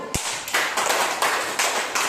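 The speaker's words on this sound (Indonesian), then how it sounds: "kalau tepuk tangan dulu untuk kelompok 1" Classroom clapping for a student group, a brief sharp tap followed by several bursts of fairly loud, close applause from a small group, with no talk.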